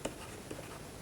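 Chalk or marker strokes on a board during a maths lecture, two brief scratchy taps about half a second apart, close and quiet, with no talking.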